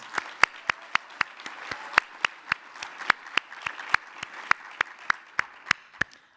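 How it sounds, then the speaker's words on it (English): Sparse, distinct claps from a small audience at an awards ceremony for AAMI standards award winners, each sharp hand clap separated by short gaps in an uneven, steady rhythm, fairly near and alone with no talk. "Let's give them all a big round of applause"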